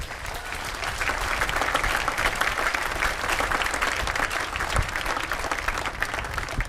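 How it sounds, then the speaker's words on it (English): At a senior school commencement, an audience gives a sustained round of applause for parents and family, a dense, even wash of clapping that lasts several seconds. "Please take a minute to give them a round of applause to recognize that."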